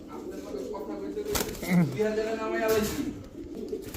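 Pigeons coo nearby at a pigeon sale amid a busy background of people talking, with a brief flutter of wings partway through.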